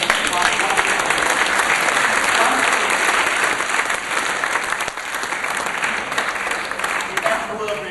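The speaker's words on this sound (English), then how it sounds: "A round of applause for the" A keynote audience in London breaks into loud, dense applause that fills the room and continues for several seconds, easing slightly toward the end.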